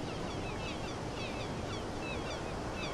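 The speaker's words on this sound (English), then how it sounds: "It's a nice ass ocean breeze" Steady ocean breeze ambience from the NBA 2K21 video game, a continuous broadband wash of wind and surf that stays even and unbroken throughout, with no voices.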